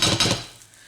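A spoon taps a spoonful of sweet potato and Marmite pancake batter off onto a metal frying pan, two quick bright clinks close up that ring out briefly and fade.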